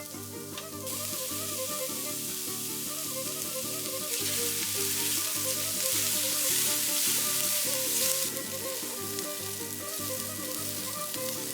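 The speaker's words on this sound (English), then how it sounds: "I got some oil in a big pot here and I'm adding our diced onions" Diced onions fry in oil in a big pot, giving a steady close crackling sizzle that grows louder and brighter for a few seconds in the middle before settling back, with no speech.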